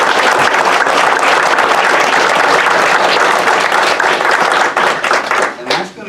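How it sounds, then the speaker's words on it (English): Attendees at a borough council meeting applaud local school district students, a loud, dense burst of clapping from the room that holds for several seconds, then tapers off raggedly. "Let's give them a big hand of applause."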